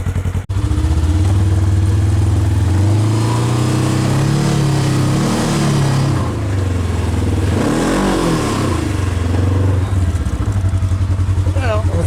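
A 2018 Polaris RZR 900 side-by-side climbing a steep back road uphill, its engine droning loud and close with rising and falling revs, and talk over the top.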